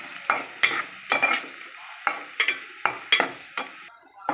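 Onions fry in oil for a raw prawn curry while a spoon scrapes and stirs the pan in irregular sharp strokes over a soft, close sizzle, with no speech.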